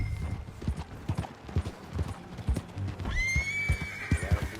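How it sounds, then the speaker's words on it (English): Horse hooves clip-clop steadily on the ground in the Red Dead Redemption video game, joined midway by a loud whinny, with game background ambience throughout. "That a new horse?"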